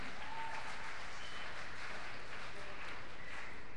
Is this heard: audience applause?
yes